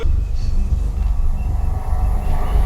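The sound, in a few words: Shinkansen bullet trains running fast in a film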